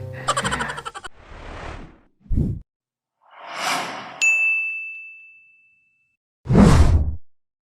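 A phone notification rings out as a single clear, sustained ding, set among whooshes, a clatter and a low thud with silent gaps between them; nobody speaks.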